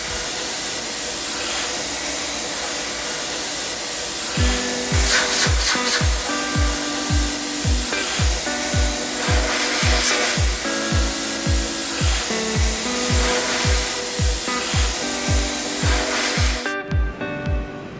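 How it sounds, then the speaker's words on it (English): Brake calipers being media blasted to bare metal, a loud continuous hissing roar of the sandblaster with a steady pulsing throb underneath, running for most of the clip. "we're gonna sandblast these to bare metal"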